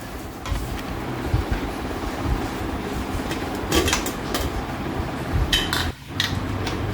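Cooked buffalo meat is stirred in a pan, giving a continuous rumbling scrape with occasional metallic clinks and a brief pause near the end.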